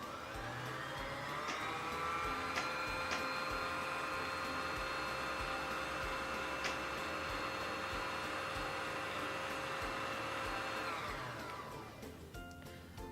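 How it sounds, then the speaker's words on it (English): A Singer Fashion Mate 3342 sewing machine winds a bobbin with a steady, close motor whine that holds evenly for about eleven seconds and then spins down, with a few faint clicks along the way and no talking. "Now, wind it either until it is full or until you're satisfied with how much thread is on your bobbin."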